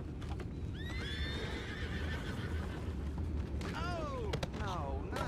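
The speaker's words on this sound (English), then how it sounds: "mind the horses" Horses in Red Dead Redemption 2 whinny several times with rising and falling neighs, hooves clopping underneath, all set against a constant game background rumble.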